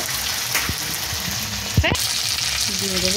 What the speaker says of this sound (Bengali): দিয়ে দেবো আদা বাটা, দিয়ে সুন্দর করে নাড়াচাড়া করে নেব